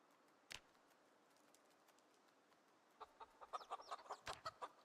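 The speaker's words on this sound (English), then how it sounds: "So we got a cockerel." A cockerel in the video game Project Zomboid clucks in a quick rhythmic series of short notes, faint and somewhat distant, following a couple of isolated knocks.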